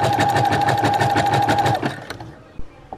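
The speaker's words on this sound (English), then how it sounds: "push this button down and then press the pedal. This is the zigzag." A Brother sewing machine runs a zigzag stitch in a loud, rapid, rhythmic burst, then halts, leaving a few soft clicks and handling knocks.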